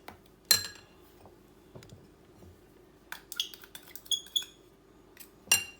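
Dry ingredients for an eggless ghee cake being stirred together in a bowl, with a few sharp, scattered clinks and scrapes of a utensil against the dish over a quiet background.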